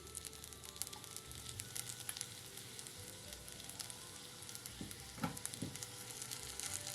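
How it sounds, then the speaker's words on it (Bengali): A mini laccha paratha fries in a pan with a little white oil sprinkled over it, giving a continuous close crackling sizzle. A few louder scraping and turning noises come toward the end. "এবার আমি এর ওপর থেকে সাদা তেল ছড়িয়ে দেবো দিয়ে লাল করে ভেজে নেবো"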